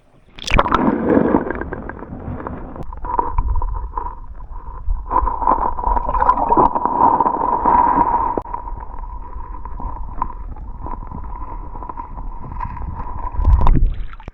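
Muffled gurgling and sloshing of clear river water close against a microphone dipped in it, with a steady hum and bubbly underwater rumble, bursts of louder splashing at start and end.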